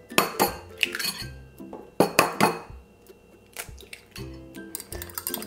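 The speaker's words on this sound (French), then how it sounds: "Et pendant ce temps-là, on va casser nos œufs." Eggs cracked for Chinese fried rice while oil heats in a wok: a few sharp shell taps and clinks against a bowl, arriving in short bursts with quiet gaps between, close and fairly soft, without speech.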